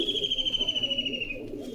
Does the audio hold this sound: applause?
no